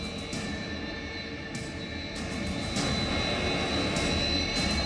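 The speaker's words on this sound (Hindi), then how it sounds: "जापान की धरती पर उतरे भारत के सुखोई MKI को दिया गया वाटर कैनन सैल्यूट" An Indian Air Force Sukhoi Su-30MKI fighter jet landing in Japan, heard as a steady jet-engine whine and roar that grows slightly louder over time, with brief bursts of hiss on top.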